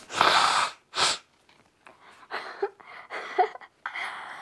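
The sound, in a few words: person blowing her nose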